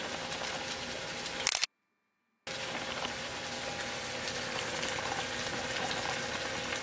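Pasta sauce with large basil chunks simmering in a pan, a steady crackling sizzle heard close and continuous, briefly cut off by a short gap of silence.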